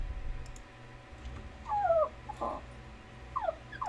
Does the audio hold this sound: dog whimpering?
yes